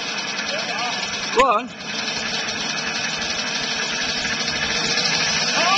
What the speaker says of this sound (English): Just rev it more. It's alright, it'll take a bit to start.